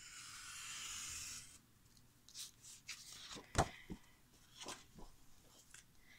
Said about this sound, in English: I'm gonna take my cutting knife. I'm gonna cut this piece.